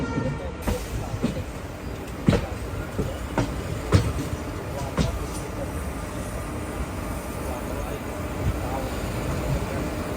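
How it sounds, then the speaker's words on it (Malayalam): A train rolling into Panvel Junction railway station, a low running rumble with scattered clacks and knocks of wheels over rail joints, gradually settling, while a voice talks over it. "ഇതാ പനവേൽ ജംഗ്ഷൻ റെയിൽവേ സ്റ്റേഷനിലേക്ക് നമ്മുടെ ട്രെയിൻ എത്തിക്കൊണ്ടിരിക്കുകയാണ്"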